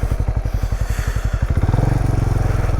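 A Benelli Imperiale 400 motorcycle engine chugs at a close, loud, steady low thump, then the throttle opens and the pulses quicken into a denser, harder beat.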